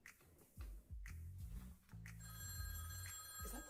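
A telephone bell rings in repeated bursts, loud and close, with a musical backing underneath and no talk over the rings.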